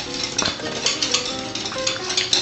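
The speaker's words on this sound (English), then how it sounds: "notice I'm just adding it, stirring in with a wire whisk" A wire whisk stirring Ultra Gel into a jam mixture in a bowl, quick close scraping and clinking strokes repeating in an uneven rhythm.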